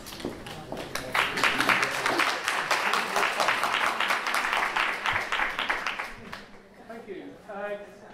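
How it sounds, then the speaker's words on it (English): Audience applause at a talk, a dense burst of clapping from many hands that swells, then thins and fades out toward the end. "a round of applause."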